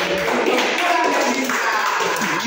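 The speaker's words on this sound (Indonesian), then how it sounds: "tepuk tangan untuk dua kelompok ini" An audience claps for two groups that just finished presenting, a dense burst of applause close by with a voice faintly mixed in.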